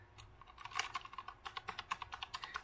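Keys of an Azio Retro Classic mechanical Bluetooth keyboard click in a quick, uneven run of close, crisp strokes, settling into a steady typing rhythm with no talking.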